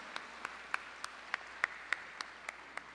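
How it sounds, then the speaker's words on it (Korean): Sparse, scattered hand clapping from a wedding blessing ceremony audience in Seoul, a dozen or so separate claps at a steady, slow pace, fairly distant and faint. "큰 박수로 역시 감사의 뜻을 모아주시면 고맙겠습니다."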